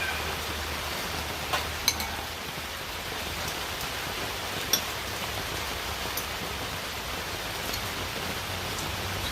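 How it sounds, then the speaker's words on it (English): Heavy rain during a California storm falls in a dense, steady hiss, with a few sharper drops and taps standing out now and then. "Yeah, the rain picked up there."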